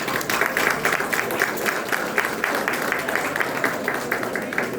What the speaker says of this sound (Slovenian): mislim, da si vsi skupaj za uvod zaslužimo en aplavz